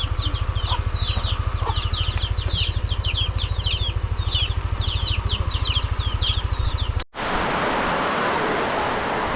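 Chickens cluck repeatedly in a rural yard during rain, bursts of calls over a steady low engine-like drone, before the sound cuts to a broad hiss of rain.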